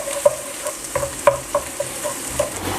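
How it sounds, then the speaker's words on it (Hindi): Crushed garlic browns in hot oil in a wok, giving a soft, steady sizzle broken by several sharp pops and light stirring clicks. The sound is close and quiet, with no talking. "तो मैं इसमें अभी डालूँगा 1 टेबलस्पून क्रश गार्लिक। इसको मैं अभी अच्छी तरह ब्राउन करूँगा"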